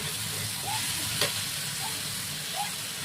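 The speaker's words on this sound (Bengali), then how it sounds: "একটু টমেটো বাটা দিচ্ছি" Tomato paste fries in a pan for a home-cooked curry, giving a soft, steady sizzle and hiss close by, with a few faint light clinks.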